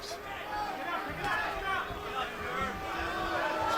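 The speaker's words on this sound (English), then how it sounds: "Crowd's getting a little restless." A restless crowd at a boxing match murmuring in a steady low hubbub that swells slightly over a few seconds, with scattered nearer voices mixed into the background chatter.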